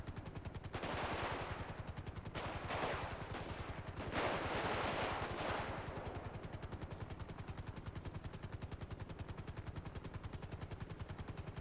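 Bursts of gunfire in a FiveM GTA V roleplay game, a few dense volleys over the first half, fairly faint and distant, then fading into a steady low mechanical drone with no talk.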